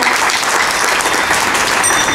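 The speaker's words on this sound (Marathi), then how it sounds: "सगळ्यांसाठी एकदा जोरदार टाळ्या." An audience claps loudly and steadily in a dense, continuous burst of applause that lasts throughout, with no speech over it.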